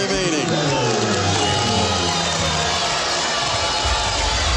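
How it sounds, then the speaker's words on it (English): Crowd at a high school boys basketball game cheers loudly after a made three-pointer, a steady dense roar throughout with a commentator talking over it. "Now the crowd into it."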